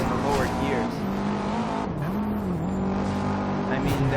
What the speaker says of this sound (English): the thing just bangs off the rev limiter so quickly in the lower gears